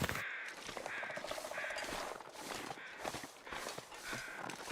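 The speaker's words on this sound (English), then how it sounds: "I hear crows" Crows cawing in The Long Dark, several harsh repeated caws at a moderate distance over a faint wintry ambience with soft crunching footsteps.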